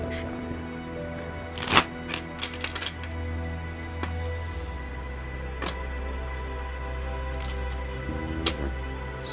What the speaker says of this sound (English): these I can probably riffle shuffle pretty well